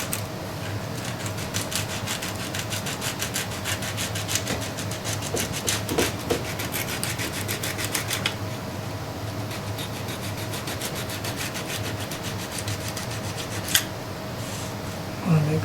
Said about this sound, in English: let's go at it with some sandpaper and we'll find out.